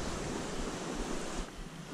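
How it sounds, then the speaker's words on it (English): A babbling brook and waterfall in a moorland clough produce a steady, broad rushing of water, close and continuous with no pauses. "Nice, relatively flat, babbling brook, waterfall."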